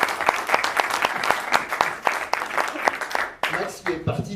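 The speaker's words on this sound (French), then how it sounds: "je pense qu'on peut vraiment l'applaudir très très fort" An audience at a political campaign meeting in Châteauroux applauds loudly, a thick steady roar of clapping with sharp individual claps and cheering voices mixed in.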